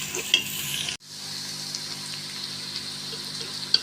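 Ginger and garlic paste frying in a pan for white lobia masala, heard as a steady soft sizzle with occasional light pops and stirring, briefly interrupted near the start, with no voices.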